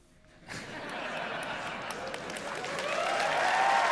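Audience clapping and cheering at a Ubisoft E3 presentation, starting abruptly after a quiet moment and building steadily louder as the crowd keeps applauding, with a few voices mixed into the dense clatter.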